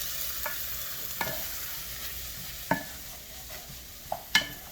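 Ground Italian sausage and anchovies frying over medium-high heat, a soft continuous sizzle broken by several sharp scrapes and knocks of a utensil stirring in the pan.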